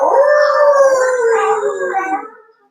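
Children in a yoga class imitate a wolf howl with their voices, one long, loud, wavering 'ow' that rises, slowly slides down in pitch, and fades out near the end.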